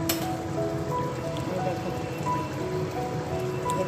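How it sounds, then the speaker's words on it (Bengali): Mutton sizzles and spits as it is sautéed in a pan for curry, a continuous crackling sizzle heard up close with a voice talking over it. "মাটন কষা চলছে বন্ধুরা, মাটনের ঝোল হবে"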